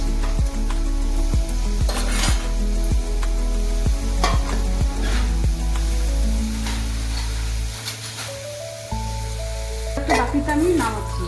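Potatoes fry in a pan with steady sizzling and repeated sharp scraping clicks of a spoon or spatula, then the frying fades as they are lifted out into a bowl, followed by a brief louder clatter.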